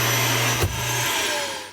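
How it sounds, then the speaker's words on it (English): An RV's built-in central vacuum system running through its hose attachment, a loud steady motor whine and airflow roar with a brief bump partway through, no talking. "the vacuum hose attachment"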